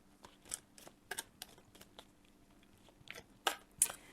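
Tarot cards shuffled by hand, a quiet series of crisp riffling snaps and soft card slaps in irregular bursts, close and alone with no talking.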